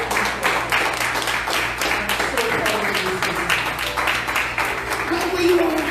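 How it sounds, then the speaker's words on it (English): A church-launch crowd applauds to welcome a woman onto the stage, with dense, continuous clapping under voices and some tonal sound in the room. "Let's give her a big round of applause."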